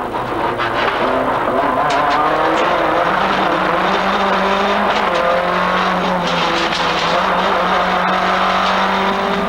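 Renault Mégane race cars from the Swiss Renault Mégane Cup pull away together at the start of a race at Paul Ricard, a steady, loud engine roar under mixed revving and crowd-like noise with no break.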